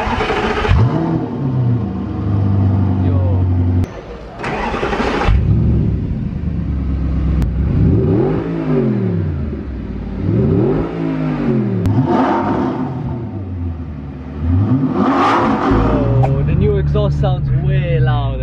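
An Audi R8 engine with a new exhaust revs repeatedly and loudly up close, pitch sweeping up and down in aggressive bursts, with voices talking underneath.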